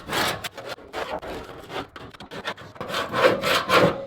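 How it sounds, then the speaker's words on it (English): Scraping across the trunk surface of a 1966 Buick Riviera during prep, a close, continuous rasping rub in uneven strokes that grows louder and busier toward the end. "I think what I'm going to do is kind of first scrape it"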